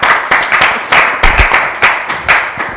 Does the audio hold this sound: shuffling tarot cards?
no